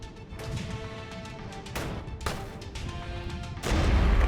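Battle in the wargame Regiments: repeated distant gunfire and artillery thumps over a steady rumbling background, swelling into a heavier roar near the end.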